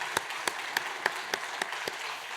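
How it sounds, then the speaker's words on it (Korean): A church congregation applauds with a steady rhythmic beat, the claps landing about three times a second over a dense wash of clapping. "우리 한번 박수로 축복하시겠습니다."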